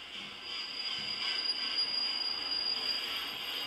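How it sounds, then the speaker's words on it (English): A train passes as a sound effect played from a cue: a steady, loud rail roar with a high metallic wheel squeal running through it, continuous and unbroken. "I change to train passing."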